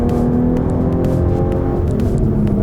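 A supercharged 2021 Jaguar F-Type P380 engine pulls hard under acceleration, a loud, continuous deep growl that holds steady for a couple of seconds.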